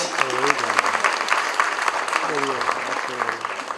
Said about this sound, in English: a big round of applause for the Mukul Madhav Foundation